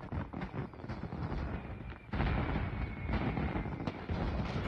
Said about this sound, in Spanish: Quiero ver los fuegos artificiales.